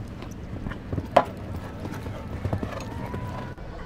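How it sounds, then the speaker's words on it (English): A horse's hooves clip-clop in rhythmic trot on a course at a show jumping eventing competition, moderately near, while a commentator talks over them. "Such a class horse."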